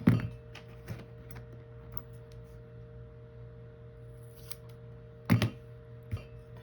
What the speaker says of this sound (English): I can use this, and I can cut it in half.